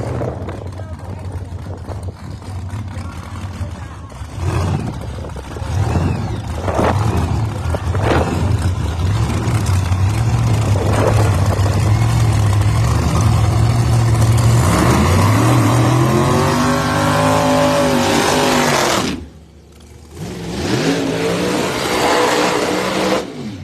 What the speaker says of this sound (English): Cars with a relatively short burnout.